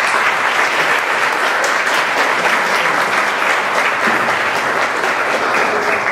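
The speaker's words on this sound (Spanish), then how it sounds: "vamos a recibirlo con un fuerte aplauso" An audience at a quantitative trading workshop applauds to welcome a speaker: dense, steady clapping from many hands that holds loud and even for the whole stretch.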